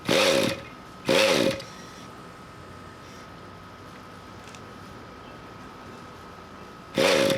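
The motor of a Century Radikal G20 RC helicopter is cranked in three short loud bursts, two close together at the start and one at the end, with a faint steady tone between them.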